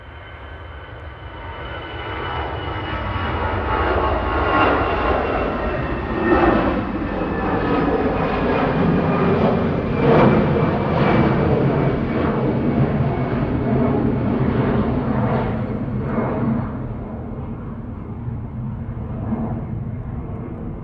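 An Airbus A320 jet airliner departs Manchester Airport at night, its engines a loud, sustained roar that swells and holds steady, then eases slightly as the aircraft climbs away.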